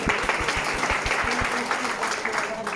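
An audience applauds a sponsor with steady, dense clapping throughout, close and moderately loud, with a faint voice beneath.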